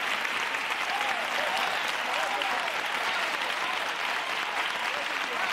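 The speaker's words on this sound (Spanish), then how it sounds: "Yo querría que ustedes les dieran una ovación" A studio audience on a Spanish television talk show gives a sustained ovation for bullfighter Juan Antonio Ruiz "Espartaco": dense, steady clapping that fills the whole stretch with hardly any change in level, with only a faint trace of voices underneath.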